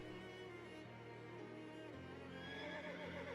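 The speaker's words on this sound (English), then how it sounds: "Somebody led this horse to this water, but the horse is finishing the job itself." A horse in the Shadows Over Loathing video game, heard as a game sound effect: a steady low snorting, whinnying tone held over a constant background hum, with a shift in pitch midway.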